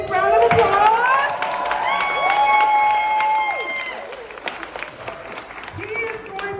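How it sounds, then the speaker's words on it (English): Community event crowd applauding and cheering as Mayor Stephen Mason is introduced, with clapping and shouts mixed with children's voices and rising tonal calls, loud at first and tapering off. "Can you give him a big round of applause?"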